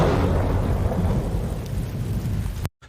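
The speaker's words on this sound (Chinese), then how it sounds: "就是一个打雷的一个声音。" A thunder sound effect in a surround-sound mixing demo, a single long loud rumble with deep low-end roll that continues steadily for nearly three seconds and then cuts off abruptly.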